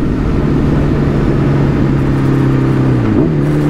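Car engines idle and rev close by in a steady drone, with pitch shifting upward near the end; loud and continuous with no talk.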